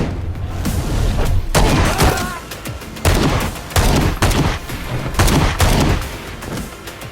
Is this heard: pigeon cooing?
no